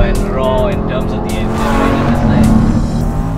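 An Audi R8 with a naturally aspirated V10 engine roars loudly at the Buddh International Circuit, a steady high-revving wail with a brief tire squeal, while someone talks over it.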